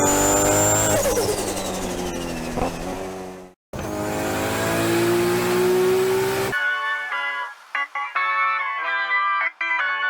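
A Nissan Skyline R32 GTR engine roars and revs loudly, its pitch climbing and falling through sustained pulls, with a short cut in the middle. Thinner, tonal sounds follow for the final seconds.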